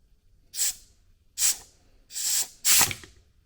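Four sharp bursts of hissing spray from a hose used to pop out a brake piston on a 2019 Mazda MX5, each lasting a fraction of a second, separated by short pauses; close and fairly loud.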